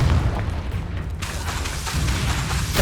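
A Confringo blasting spell goes off in Hogwarts Legacy, with a deep, loud booming burst and a sharp second blast near the middle over continuous rumbling battle noise.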